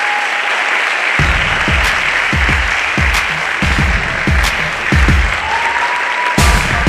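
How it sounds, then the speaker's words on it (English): Applause from an audience for the cast of a college performance, a dense steady wash of clapping heard close and full, with a few sharper individual claps and a faint voice or two rising over it. "Please join me with one last round of applause for very brave and proud, powerful cast."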